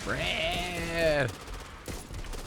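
Gunfire in the video game Back 4 Blood: a sustained, voice-like tonal cry fades out, followed by a single sharp, close shot near the end over steady background game noise.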